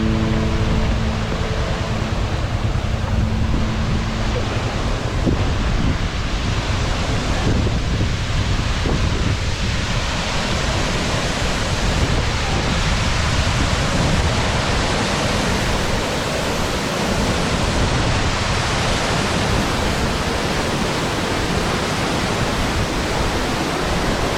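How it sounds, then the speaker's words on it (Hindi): A waterfall on the road from Pelling to Dentam in West Sikkim roars steadily and loudly, a dense continuous rush of falling water with no break. "काफ़ी शानदार झरना।"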